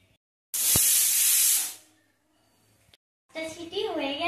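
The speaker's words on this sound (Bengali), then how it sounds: "সিটি হয়ে গেছে, এখন আমি এটাকে নামিয়ে নেব।" Pressure cooker whistle releasing steam in a kitchen while cooking jackfruit seed cutlets: a loud, steady hiss lasting about a second, then fading, followed by a voice speaking.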